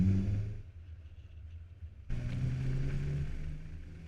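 A 2005 Lotus Elise with a 1.8 liter engine drives along, its low engine rumble easing and then swelling back abruptly midway, loud and close, with no talk.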